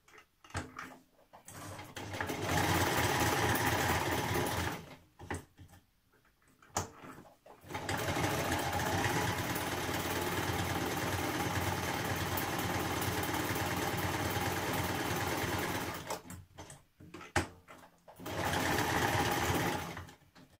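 A sewing machine stitches buttonholes in long steady bursts of rapid mechanical whirring, stopping and restarting several times with short quiet gaps between runs.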